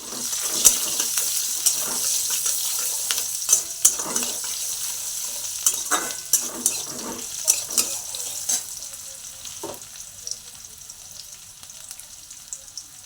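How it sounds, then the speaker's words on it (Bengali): Nigella seeds and chopped onion crackle and sizzle in hot oil in a home kitchen, with sharp spatters and stirring clatter breaking over a steady frying hiss. "দিয়ে দিচ্ছি একটু কালো জিরে আর দিয়ে দিচ্ছি একটু পেঁয়াজ"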